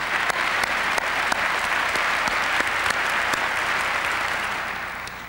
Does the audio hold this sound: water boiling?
no